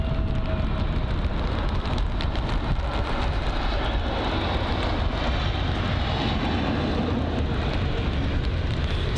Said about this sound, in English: or the Scandinavian A320neo with the older livery.